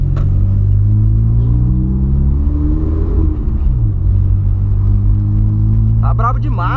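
Volkswagen Polo with a straight-pipe exhaust idling with a deep rumble, rising into a rev and dropping back, loud and close, with someone talking over it.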